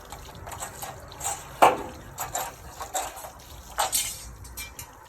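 Water drains from a home water heater being flushed after an anode rod replacement, a steady low wash and trickle with irregular splashes and gurgles rising and falling throughout.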